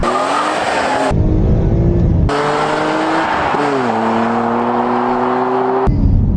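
A rebuilt BMW E46 M3 engine revs hard and high, cutting out and climbing again through several sharp pitch rises, loud and close.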